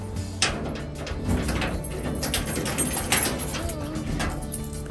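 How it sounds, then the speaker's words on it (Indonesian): A home garage door is pushed open, with sliding rattles and scraping clatter over several seconds. Voices talk nearby throughout. "aku harus buka pintu gerasi"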